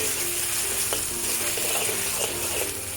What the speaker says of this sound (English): When the oil is heated up, add the beef slices, stir fry over moderate heat.